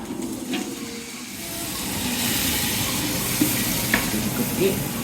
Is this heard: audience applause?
no